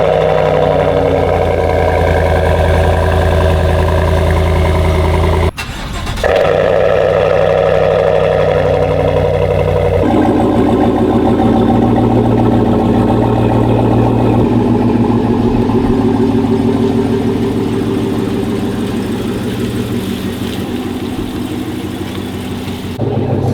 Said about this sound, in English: You ever have that where you start your vehicle and sometimes it's way louder than you expected?